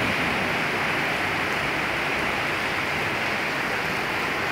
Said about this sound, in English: with the window closed, you can hear the rain